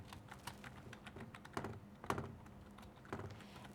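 Computer keyboard typing as column headings are entered in a word processing table, with soft, close key taps in uneven clusters and a few louder strokes.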